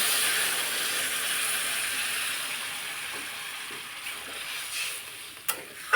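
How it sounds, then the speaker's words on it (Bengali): Hot oil and fried spice paste hiss loudly in a pan as water is poured in, a broad steady sizzle that gradually fades, followed by a few soft clinks and taps near the end. "আমার মশলাটা কষানো হয়ে গেছে এবার আমি দিয়ে দেবো পরিমাণ মতো জল"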